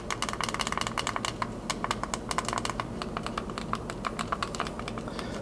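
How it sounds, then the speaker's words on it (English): Select and start buttons on an Anbernic RG35XXSP handheld console are pressed over and over, making a steady run of sharp, close, very clicky taps. "Oh, these are super clicky."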